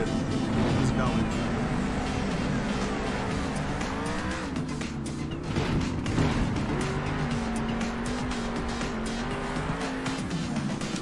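A monster truck engine in Monster Jam: Steel Titans held at full throttle, a loud steady roar with shifting pitch and occasional tire squeal, continuous throughout under intermittent talk.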